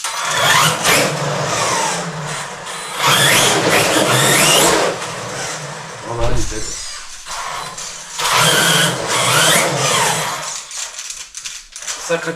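A vehicle engine being worked on by a mechanic cranks and catches, then revs and settles with squealing, mechanical tones, loud and close, while voices talk nearby.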